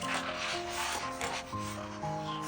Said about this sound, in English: For a vintage touch, ink the edges after trimming.